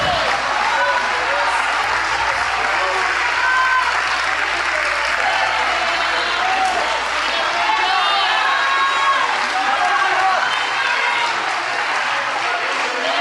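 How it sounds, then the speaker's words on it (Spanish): A congregation in a church gives sustained applause during a Spanish-language worship service, a dense, continuous wash of clapping with crowd noise and a preacher's voice running beneath it throughout. "Dele un aplauso porque Él merece."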